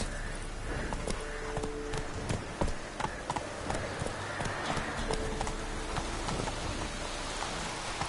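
Horse hooves gallop in a steady clip-clop rhythm in the video game Witcher 3, over continuous rain pattering close by.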